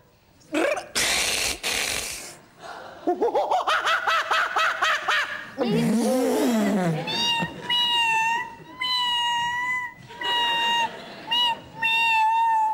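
A human voice mimics a cat with a series of drawn-out, nasal meows, some with a laughing, snickering edge, loud and close with short pauses between.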